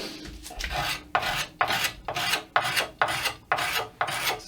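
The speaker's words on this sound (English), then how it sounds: "you can also come in with a scraper" Hand scraper working a wooden guitar neck joint, about eight rhythmic rasping strokes of roughly half a second each, close and crisp with brief pauses between passes.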